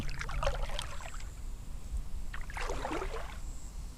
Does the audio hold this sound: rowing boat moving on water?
yes